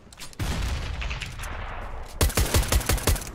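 Sniper rifle fire and other gunshots crack in the video game CS:GO, a cluster of sharp, loud reports followed by a faster burst of close shots, with no talking over them.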